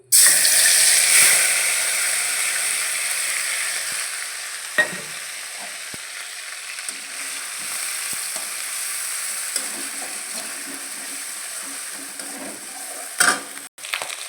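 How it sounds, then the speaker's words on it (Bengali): Ginger, garlic, onion and spice paste frying in oil in a wok, a loud burst of sizzle at first that settles into a softer steady crackle, with occasional clinks and stirring scrapes near the end. "এই যে কড়াইতে তেল দিয়েছি আর একটু পরিমাণ দেব আর একটু পরিমাণ তেল দিলাম আদা রসুন পেঁয়াজ বাটা আর জিরে মরিচ ধনে বাটা একসাথে দিয়ে দেবো"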